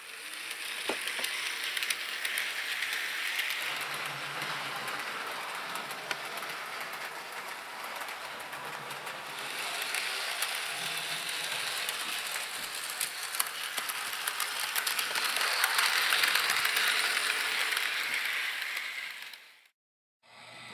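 A Lionel HO Polar Express Berkshire locomotive with tender and LionChief control runs steadily along track with a continuous mechanical whir and clatter, loud and close throughout, cutting out abruptly near the end.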